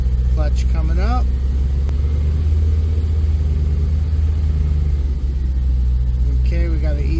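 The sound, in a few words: 2002 Camaro SS manual, clutch engaging, car pulling away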